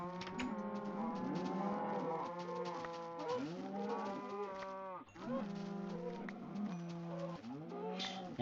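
Minecraft cows moo over and over, loud and close, their drawn-out bovine calls overlapping almost continuously with only brief gaps between them.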